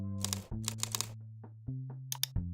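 Keystrokes tapped on a computer keyboard in short clustered bursts with brief pauses, close and crisp, alone without talk.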